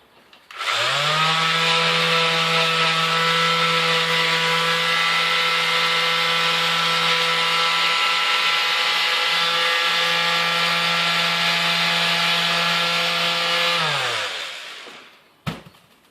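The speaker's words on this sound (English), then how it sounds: "just use a lighter grit sandpaper, and it will take some of that roughness off it" A rotary power tool whines at a steady high pitch while shaping and smoothing an EVA foam edge, running continuously for about fourteen seconds before spinning down, with a small clunk at the end.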